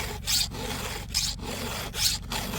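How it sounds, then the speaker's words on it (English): A hand file sharpens a chainsaw chain in three steady strokes, each a close, gritty rasp separated by short pauses. "Let the file do the work."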